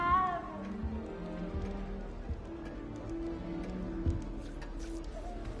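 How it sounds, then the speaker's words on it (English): A small cat meows in the video game Hogwarts Legacy, a short meow near the start over soft game music and ambient background. "You don't need to be frightened, little cat."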